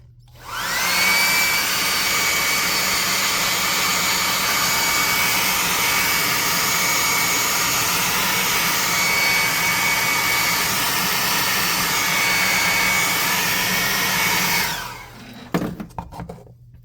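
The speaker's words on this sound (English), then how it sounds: "Then we're going to dry that off. Hot air gun." A hot air gun drying paint on a miniature tabletop figure blows a loud, steady whooshing roar for about fourteen seconds, then cuts off, leaving a few faint clicks and handling sounds.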